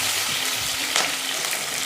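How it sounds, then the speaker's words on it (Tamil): Frying in a pan, a close, steady hiss and crackle of sizzling oil with a slight stir near the middle, brief and without talk. "என்ன சமைக்கிற சத்தம் கேட்குதுங்க"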